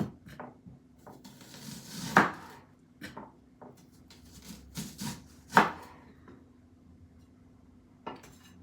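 A knife slices an onion into rings on a cutting board, giving scattered sharp chops and soft taps with irregular gaps, a few strokes louder than the rest, close up in a quiet room.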